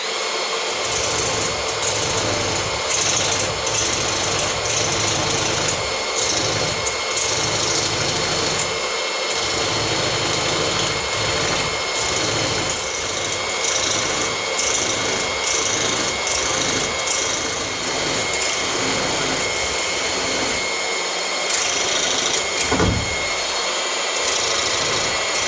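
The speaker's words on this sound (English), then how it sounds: "I'm going to decrease the stroke on the scraper and start to work a bit more refined." A hand scraper works a straight edge blank with short, refined strokes, giving steady broadband scraping and rasping that runs continuously throughout at a close, fairly loud level with rhythmic pulses.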